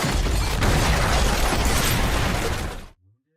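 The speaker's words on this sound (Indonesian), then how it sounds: "tapi kena ledakan parah." A grenade detonates in a John Wick film with a loud, roaring blast that fills about three seconds before cutting off abruptly into silence.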